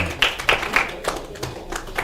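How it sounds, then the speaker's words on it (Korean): An audience at a formal banquet hall gathering claps in a short, uneven burst of a few distinct hand claps, moderately close, fading toward the end. "큰 박수를 보내주시면 고맙겠습니다."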